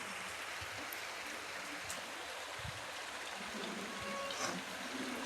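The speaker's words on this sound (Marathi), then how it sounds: "आणि इकडे छान असा पाऊस चालू आहे" Steady rain falling outdoors, a continuous hiss with soft patters and drips close by, moderately quiet, with faint sounds of activity in the background.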